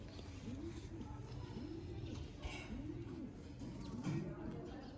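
Sialkoti pigeons, including a breeder male, cooing on a rooftop in a rhythmic series of soft, rolling coos repeated about every second, with light background noise.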